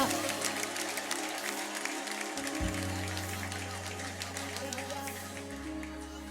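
A worship congregation applauds during a gospel service, producing a dense, continuous patter of many hands at moderate distance, beneath low sustained instrumental tones that shift partway through.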